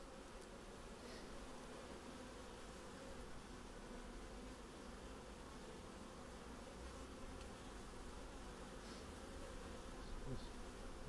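Honeybees buzz steadily at an open beehive, a dense, continuous hum close by and alone, holding even throughout with no talk.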